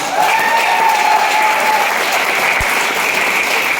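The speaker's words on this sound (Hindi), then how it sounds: "ऐसी सुरक्षा के लिए मैं चाहूंगा तक की जोरदार तालियां" Audience applause at a business plan presentation, a loud, continuous wave of clapping from a large crowd, with a faint tonal hum running beneath and one brief low thump partway through.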